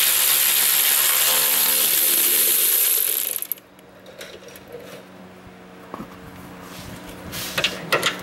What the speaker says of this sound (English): taking out the bolts on the bracket